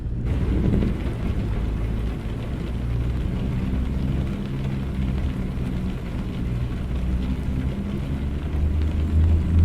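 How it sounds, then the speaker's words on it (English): A steady, loud rush of rain mixed with low rumbling, in the American Truck Simulator driving game, holds evenly throughout with no voices. "Maybe we can get out of this rain"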